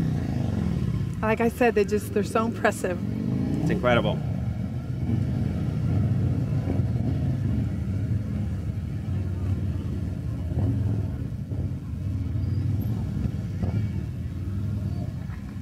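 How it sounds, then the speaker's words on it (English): Police motorcycles maneuver in a Junior Orange Bowl parade, their engines a steady low rumble throughout while a nearby voice keeps talking over them. "Look how they maneuver those motorcycles."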